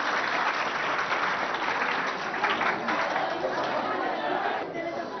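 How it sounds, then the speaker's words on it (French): Sustained audience applause at a school quiz contest, dense steady clapping with crowd chatter mixed in, holding level throughout before easing slightly at the end. "je vais vous demander d'applaudir encore pour les accompagner"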